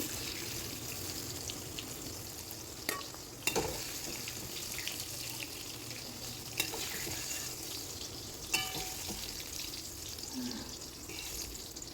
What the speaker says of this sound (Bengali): বেগুনগুলো দেখবে যে এরকম করে ভাজা হয়ে গেছে